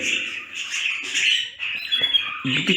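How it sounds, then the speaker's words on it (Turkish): A pair of Medina doves (kumru) call from close by, sounding scratchy, squawky and chirping over light rustling movement, in short, uneven bursts. "Bakın iki tane Medine kumrusu aldım."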